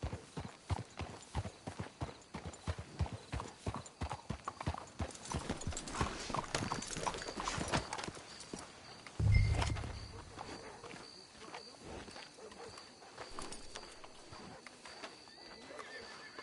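Video game horse hooves clip-clop steadily at a walking pace, with a low thump and faint ambient noise partway through.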